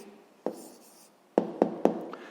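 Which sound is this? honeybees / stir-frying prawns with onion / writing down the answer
writing down the answer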